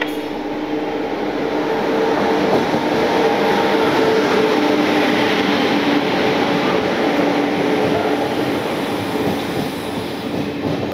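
A passenger train with a pantry car runs on the rails, giving a loud, steady rumble and rattle of wheels and carriages that holds throughout with no talking.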